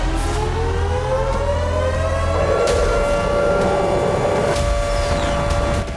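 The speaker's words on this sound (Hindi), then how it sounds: "कीव में खतरे का सायरन गूंजने लगा।" An air raid warning siren wails over Kyiv, a loud sustained tone rising in pitch and then holding steady, droning continuously throughout.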